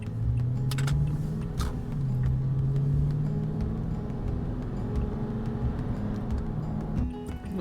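Cars idle in a traffic jam, a steady low engine rumble from inside a vehicle with a faint whine and occasional light rattles, with no talking.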